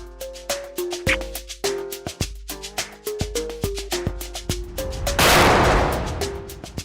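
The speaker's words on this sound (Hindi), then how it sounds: "अबे पीछे से क्या गोली चला रहा? सामने आके गोली चला।" Rapid, sharp gunshots from a TV crime drama crack in quick succession over a low musical tone, ending in a broad noisy blast that fades out.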